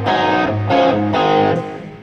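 A loud electric guitar through a distortion pedal set to moderate distortion plays a few sustained chords, each ringing out before the next, with no voices.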